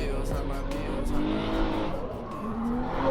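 A drift car running a qualifying lap at the Mulgi Drift 2024 event, its engine roaring steadily with loud, sustained tire squeal and skidding up close for the whole stretch, with voices mixed into the din.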